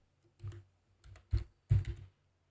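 Text is typed on a computer keyboard in a few short clusters of soft, close key clicks separated by brief pauses, with no talking.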